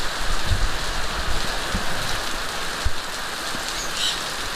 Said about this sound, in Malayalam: ഇപ്പോൾ ഇവിടെ നല്ല തകർപ്പ മഴ നടക്കുകയാണ്